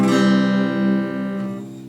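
A low chord on an acoustic guitar tuned two steps down to C standard rings out and slowly decays, deep and resonant, sounding alone.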